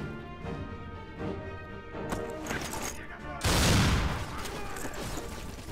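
Dense combat in the video game Black on Xbox One X: a steady clatter of gunfire builds into a loud, booming explosion midway, followed by continued rumbling fire and blasts.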